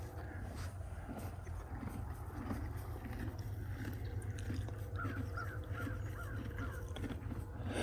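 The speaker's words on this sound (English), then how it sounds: "There's that little crow." A small crow caws several times in quick succession, moderately distant, over steady wind and low rumbling water-like background noise outdoors.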